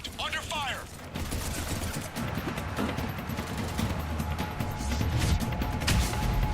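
Gunfire in Mass Effect 3 crackles as rapid bursts and scattered mechanical clatter over a dense, continuous battle din, loud and busy throughout.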